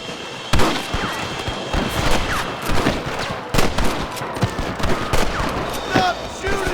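Rapid volleys of gunfire in a Red Dead Redemption shootout, sharp cracks and bursts landing in quick clusters throughout, close and loud, mixed with other game sounds.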